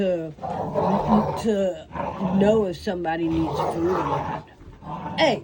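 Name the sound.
dogs barking in the background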